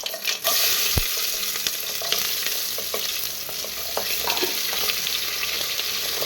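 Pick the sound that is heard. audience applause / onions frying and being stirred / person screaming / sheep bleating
onions frying and being stirred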